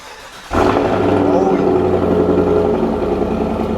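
A car engine revs through a newly fitted Corsa exhaust, a loud, sudden, deep roar that starts about half a second in and holds steady, close and rumbling, with no talk over it.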